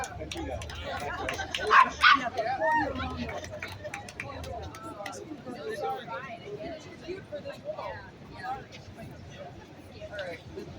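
A dog barks and yips at a street rally outside the Manhattan District Attorney's office, a few sharp barks early on and then fading, mixed in with steady crowd talk.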